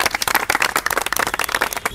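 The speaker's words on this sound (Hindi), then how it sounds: "ताली बजाओ।" A group claps hands at a training centre in a quick, uneven volley of many sharp claps, loud and close, filling the whole short moment.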